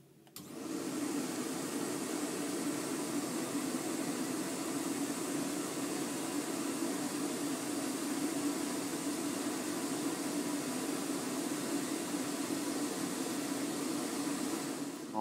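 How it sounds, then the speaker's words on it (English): A CamVac dust extractor runs with a loud, steady roaring whoosh of air. It starts abruptly and holds an even, unbroken drone throughout, with no talking. "So just switching on the CamVac extractor."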